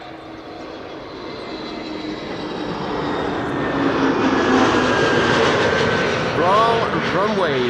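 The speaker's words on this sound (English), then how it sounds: "I think that is the Cargolux arrival from Nairobi." A Cargolux cargo plane arriving from Nairobi comes in at Amsterdam Schiphol, its jet roar swelling from a distant rumble to a loud, broad wash overhead, with a voice briefly audible near the end.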